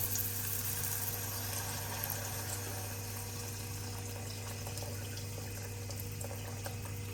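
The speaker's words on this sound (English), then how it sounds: "now adding water." Steady running water pours continuously into a pot, a constant rushing flow with a low hum beneath it, close by and unbroken throughout.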